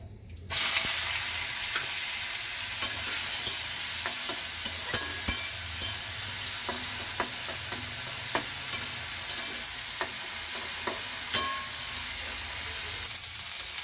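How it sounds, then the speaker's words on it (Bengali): Steady sizzling of prawns frying in hot mustard oil in a wok, a continuous loud hiss with occasional sharp crackles and pops throughout. "কড়াইয়ে সর্ষের তেল দিয়েছি এবার আমি চিংড়ি মাছগুলোকে ভেজে নেবো"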